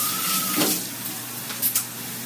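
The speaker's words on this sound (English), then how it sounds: "I can hear these. They're kind of frying" Garlic fries in a pan with a soft, steady hiss and sizzle, close and fairly quiet, with a brief faint tone early on and a couple of small pops near the end.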